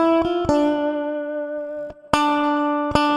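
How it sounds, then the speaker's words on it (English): A piccolo bass with the bridge pickup soloed, played near the neck, rings out in clear sustained single notes, with a few plucked attacks and long ringing tones in between, played alone. "My absolute personal favourite piccolo tone is the bridge pickup soloed."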